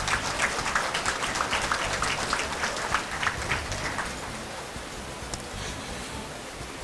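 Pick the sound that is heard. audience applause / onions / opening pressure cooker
audience applause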